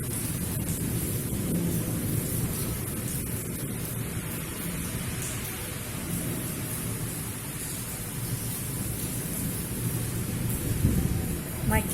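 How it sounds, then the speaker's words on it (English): Heavy rain and wind in Lahore make a steady broad hiss and roar, with low rumbling swells like distant thunder, loud and continuous with a gust rising near the end. "Now it's all windy and heavy rain."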